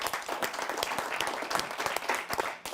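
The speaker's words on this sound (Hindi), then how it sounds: "आइए डॉक्टर साहब का तालियों के साथ स्वागत करते हैं" An audience at a satirical poetry show welcomes Dr. Rajeev Raj of Etawah with a fairly faint, steady round of applause, many hands clapping together with a few sharper claps standing out.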